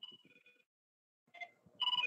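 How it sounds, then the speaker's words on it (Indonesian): A telephone rings during an online government finance briefing: a tonal electronic ring sounds at the start, breaks off into a pause, then returns as louder pulsing bursts at the end, with faint low murmurs underneath. "saya angkat telepon dulu"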